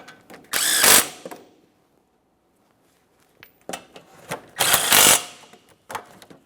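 Steering knuckle bolts on a 2014-2019 Toyota Corolla are run in with a power tool, two loud close whirring bursts separated by quiet, with a few small clicks of handling around them.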